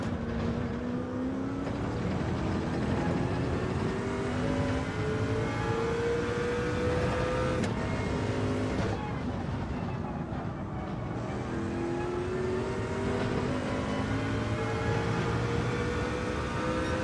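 A Nissan race car engine in Gran Turismo 7 rises steadily in pitch as it accelerates, with gear shifts resetting the tone several times, loud and continuous for the whole stretch.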